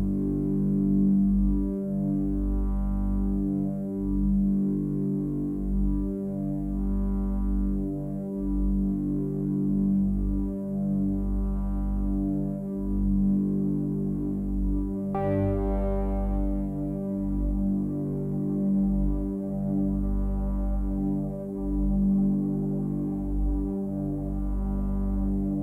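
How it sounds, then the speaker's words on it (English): A Hydra synthesizer runs through an Ocean Machine reverb on an X32R aux mix bus, giving long, droning low harmonic tones that swell and throb slowly, with one brighter note attack midway and a wash of sustained tail. "And now I will turn on the Ocean Maschine."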